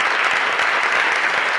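Steady, dense applause fills a court ceremony hall, many hands clapping at once in a continuous, even wash of sound with no pauses.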